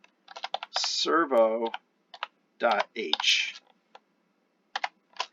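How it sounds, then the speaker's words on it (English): Light clicks from typing on a computer keyboard, sparse and close, sit mostly between and after bursts of a person talking. "I have to type a left angle bracket"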